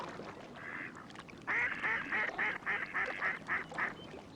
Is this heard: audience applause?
no